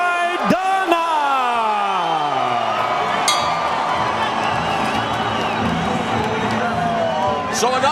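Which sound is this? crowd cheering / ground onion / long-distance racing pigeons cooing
crowd cheering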